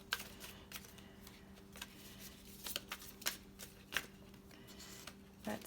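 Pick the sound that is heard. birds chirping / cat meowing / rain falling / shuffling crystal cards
shuffling crystal cards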